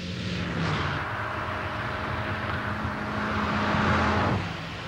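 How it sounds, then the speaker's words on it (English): A Volkswagen test car laps the inner circuit at the Ehra Lessien test track in Germany, its engine a steady, fairly loud drone with a rising, passing swell near the end. "the test driver negotiates the inner circuit for the fifth time today"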